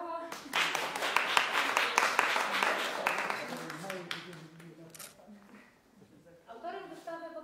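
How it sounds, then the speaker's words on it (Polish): Audience clapping at the opening of a watercolour painting exhibition in Toszek Castle, a dense burst of applause that gradually thins out and fades, with speech returning near the end. "Proszę, brawa."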